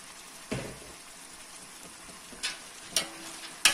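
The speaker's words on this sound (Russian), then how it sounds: "добавляем морковь и все это протушим, прожарим на растительном масле" Onion and carrot fry in vegetable oil in a pan, with a faint steady sizzle and a few sharp clicks and taps from stirring scattered through it.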